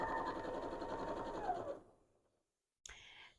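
Sewing machine quilting straight lines through layered quilt fabric, a close steady whirring run that slows and stops, followed by a short mechanical click after a brief silence.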